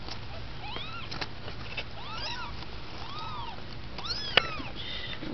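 Small kittens meowing repeatedly, high thin cries several times over a few seconds, close but fairly soft against a low background hum.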